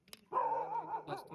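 A dog barks at a car: a short, close, fairly faint yelping bark lasting about a second, with a brief yip just before.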